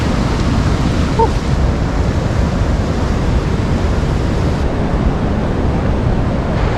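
Waterwheel Falls in Yosemite's Grand Canyon of the Tuolumne thunders down as a constant, loud, dense rush of falling water, unbroken for several seconds with no voices.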